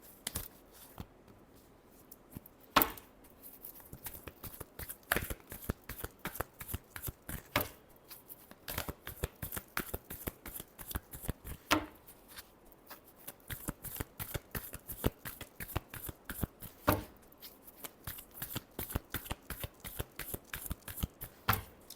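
Tarot cards being shuffled by hand, a long run of crisp, rapid riffling clicks and slaps close up, with brief pauses between bursts and no voices.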